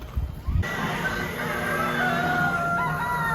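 A rooster crows in a long, steady call at a Fort Edmonton Park attraction with a two-headed chicken, loud and near, held for several seconds after a brief burst of low rumble.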